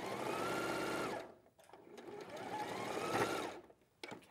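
A sewing machine stitches one side of a seam on a cushion, running steadily for about a second, pausing briefly, then running again in a longer burst before stopping; no one speaks.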